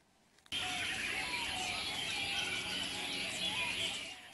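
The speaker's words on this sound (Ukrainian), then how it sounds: "Найкращого пернатого співака обирали на конкурсі у Сингапурі." Songbirds at a singing contest in Singapore chirp and trill continuously after a sudden start, many birds layered together in a dense, fairly loud outdoor chorus.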